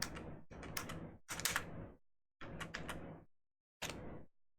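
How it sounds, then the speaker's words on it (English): Bursts of clattery computer keyboard typing come in five short clusters separated by brief silences, close and fairly faint. "Sorry, my keyboard was having issues."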